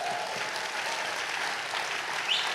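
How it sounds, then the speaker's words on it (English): A church congregation claps together during a sermon, sustained, even applause at moderate volume filling the room, with no voices over it. "Somebody give the Lord a clap."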